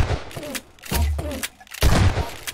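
Weapon fire in Garry's Mod comes as a few loud, punchy shots spaced irregularly over a couple of seconds, close and over faint background game sound.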